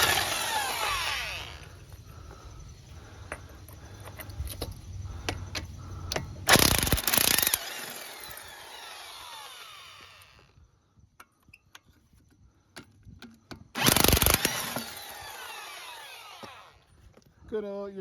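Impact wrench on the lug nuts of a 2006 Mini Cooper S Checkered Edition, with two loud, sharp bursts of about a second each, separated by quieter working sounds and low background noise.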